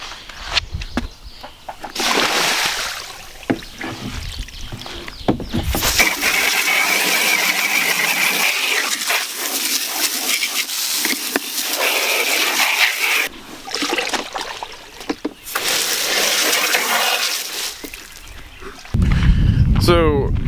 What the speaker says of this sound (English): Let's spray this Cambro out here.